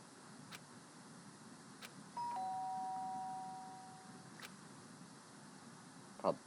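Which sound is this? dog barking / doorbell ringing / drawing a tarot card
doorbell ringing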